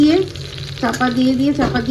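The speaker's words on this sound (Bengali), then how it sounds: "আলুটা ভাজছি" Potato pieces fry in a pan with only a little oil, pressed down under a weight. A busy sizzle and crackle rises in bursts against a low, steady background.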